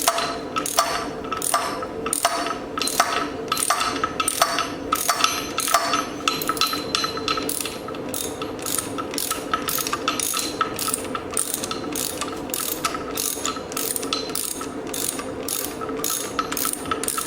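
Ratchet socket wrench clicking on a 2004-2012 Chevy Colorado engine during teardown, rapid rhythmic pawl clicks in steady bursts for the first several seconds, then a continuous quicker ratcheting, close and clear with no talk.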